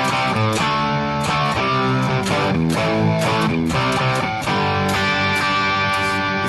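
Electric guitar through a crunchy classic-rock amp setting plays rhythmic chords and picked notes with steady, mildly overdriven tone, loud and continuous, alone without talk.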